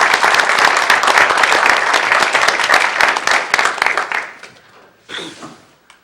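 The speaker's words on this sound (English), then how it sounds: "Let's give them all one more round of applause." Room applause at a city council meeting, loud and close with a dense patter of many hands that fades away, followed by a brief quiet voice.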